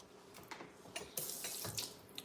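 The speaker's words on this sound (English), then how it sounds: "I think I should add more water to this. So let's do that." Water runs from a kitchen tap in a steady hiss and splash, close and fairly faint, as it is added to a thick blended smoothie, with small bursts of brighter splashing.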